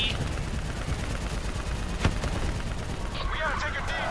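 Sustained gunfire from the video game Black Ops 3, with dense bursts rattling continuously over a loud battle din, one sharper crack standing out midway and shouted voices over the shooting.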